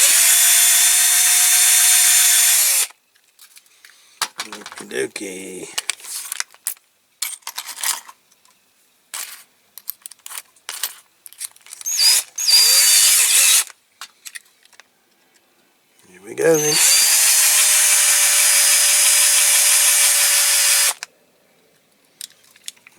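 An electric drill with a fairly blunt bit drills out rivets on a Corgi Toys Ford Zephyr die-cast model car, whining loudly in two long bursts, separated by quieter clinks, handling noises and a brief spoken remark.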